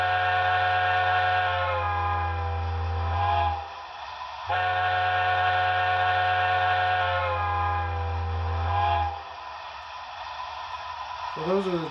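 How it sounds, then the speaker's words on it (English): An alternate steam whistle from a sound decoder in a C&O L-1 Hudson model steam locomotive blows two long, loud, steady chime blasts separated by a short gap. "So there's also an alternate whistle in the function"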